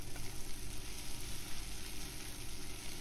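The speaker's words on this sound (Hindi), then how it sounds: "अब हम इसमें डाल देंगे 8-10 पत्ते करी लीफ, कड़ी पत्ता, इसको डाल करके हम इसी के साथ फ्राई कर लेंगे।" Curry leaves frying together with chicken in a pan give a steady, even sizzle of hot oil, close and moderately quiet, holding without a break throughout.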